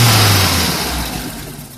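A BMW E30's engine revs loudly and close when the accelerator is pressed, its pitch swelling briefly and then settling back down.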